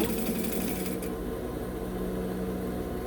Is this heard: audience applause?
no